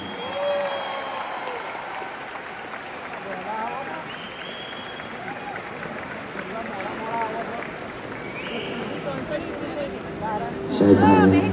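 A big crowd at a live concert in Texas claps loudly and continuously, the applause swelling near the end while an announcer speaks over the mic.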